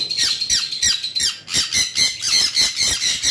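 A lovebird at a bird farm squawks loudly and close, a rapid series of harsh, grating calls following one another with short gaps.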